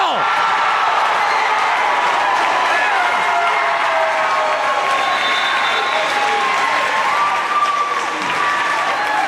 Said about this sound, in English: the crowd is up and alive here in Hayes Gymnasium